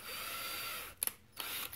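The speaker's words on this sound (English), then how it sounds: "we're going to take our screw and chuck it up in the drill" A power drill spins with a solid brass screw chucked in it, a steady high whir that stops abruptly, followed by a couple of short clicks and a brief restart.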